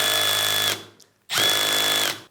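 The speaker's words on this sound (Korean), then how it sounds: "토크를 지금 2에 맞춰서 한번 피스를 박아보면요" Cordless drill driving a screw at torque setting 2, two loud sustained whirring bursts with a brief pause between, close and alone.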